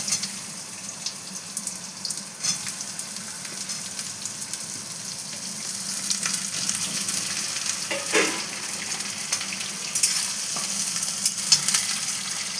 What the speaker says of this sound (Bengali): একটু ভেজে নিই পেঁয়াজটা।